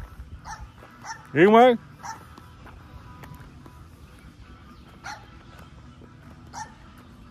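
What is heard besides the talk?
small dog barking next door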